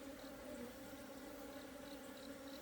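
Honeybees flying in and out of a narrowed hive entrance make a continuous low buzzing drone, close and steady, with no voices.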